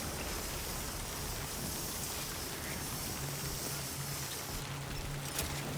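Steady rain falls in the video game Death Stranding 2, a dense, even hiss of drops that holds at the same level throughout, with a faint low hum entering near the end and no talking.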